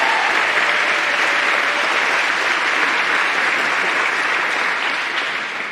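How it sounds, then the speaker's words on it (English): Audience at a community college symposium applauds the planning committee, steady dense clapping filling the room throughout at a loud, even level with no talk over it. "Let's give a nice round of applause for our planning committee."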